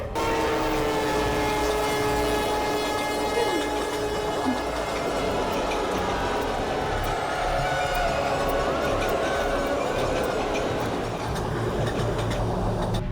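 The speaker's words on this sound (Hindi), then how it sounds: "न जाने कब रुकेगी ये ट्रेन, कब मिलेगी हमें मुक्ति।" A train runs steadily throughout, a continuous rumble of wheels and rail noise with faint sustained horn-like tones over it, loud and close, with no talking.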